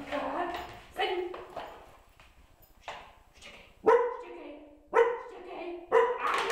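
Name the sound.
dog barking on command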